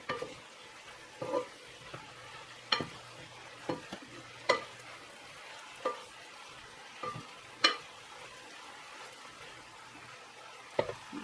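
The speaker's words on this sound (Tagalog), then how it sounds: "mas masarap pag medyo igisa mo kasi muna yung gulay bago mo lalagyan ng sabaw" Vegetables for Filipino pinakbet are sautéed and stirred in a pot, giving a faint steady sizzle broken by irregular scraping and clinking strokes of the spoon.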